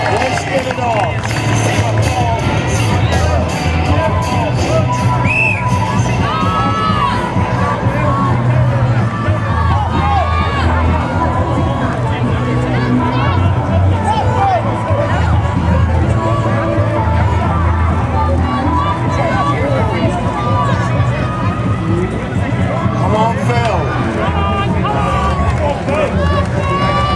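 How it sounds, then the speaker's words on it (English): A crowd roars and cheers at an Irish strongman contest as a competitor hauls a tanker truck, a dense, loud and continuous wall of hubbub with voices mixed throughout. "Let's give a big cheer."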